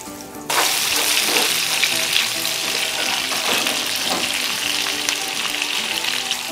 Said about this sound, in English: I'm not talking because I want you to hear that sizzle.